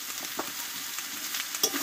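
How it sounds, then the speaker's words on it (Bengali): Soaked chickpeas and a large tomato with salt and turmeric sauté in a pan, a continuous bright sizzle with soft stirring scrapes woven through it, close and steady, no voices. "লবণ হলুদ দিয়ে এবার ভালোভাবে একটু কষিয়ে নেব, যাতে টমেটোটা একটু গলে যায়"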